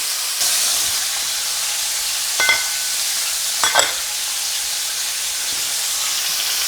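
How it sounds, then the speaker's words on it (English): Bacon sizzles in a pan on low heat with a constant close hiss. Two brief louder bursts of crackle and clatter come partway through. "Gotta cook all this bacon up"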